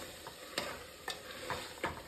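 Marinated mutton browns in a pan with a low, steady sizzle, while a few distinct spatula scrapes and taps land at irregular intervals, close and moderately quiet.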